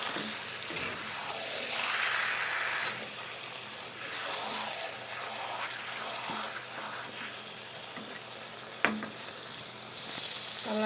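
Goat meat sautés in a pan for kosha, a steady wet sizzle with occasional stirring scrapes and one sharp clink of utensil against the pan, moderately loud and continuous.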